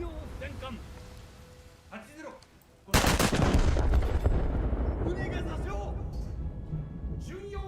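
A battleship in a naval video game fires a heavy salvo of shells: a sudden loud blast after quiet moments of talk, followed by a long rolling rumble as a voice continues speaking.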